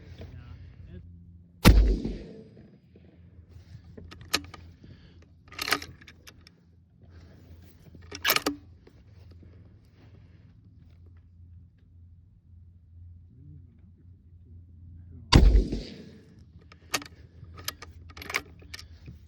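Two sharp, loud rifle shots at an outdoor range, .65 Creedmoor firing Barnes 127 LRX copper bullets, ring out far apart, each with a short booming tail, amid faint rustling and small clicks.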